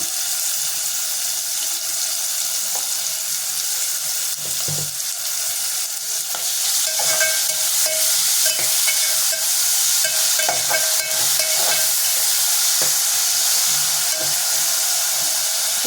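Onions and rice frying in a pan for tomato rice, with a steady close sizzle and intermittent scraping and stirring knocks throughout, no talking.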